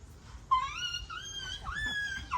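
A person imitates a dog with a voice-made yelp that stretches into a wavering, whining howl, close and fairly loud, lasting about two seconds.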